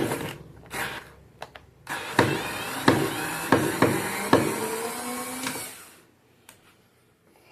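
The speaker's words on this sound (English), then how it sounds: "I have a piece of wood here that I'm screwing this nail into" A Hyper Tough 4-volt cordless rotating screwdriver drives a screw into a piece of wood, making a series of short whirring pulses close by that end in a longer strained spin before falling quiet.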